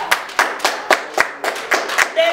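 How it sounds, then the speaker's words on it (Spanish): Congregation clapping in a church Christmas service, a steady series of sharp, evenly spaced hand claps close by, with a voice faintly present near the end. "¿Cuánto le dan un aplauso al Señor?"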